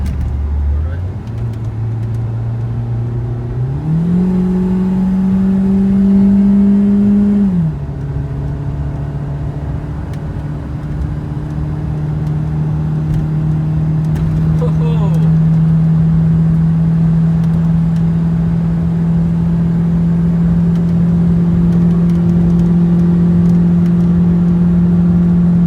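A Proton Waja front-wheel-drive car floored at full throttle, the engine drone rising through gears with a shift near eight seconds, then a sustained loud interior hum as it holds speed, with people talking over it.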